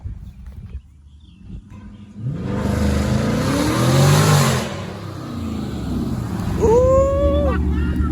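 A Dodge Scat Pack in track mode accelerates past, its engine swelling from a quiet idle into a loud rising roar that peaks mid-way, then holds at a high rev with a sharp tonal whine near the end.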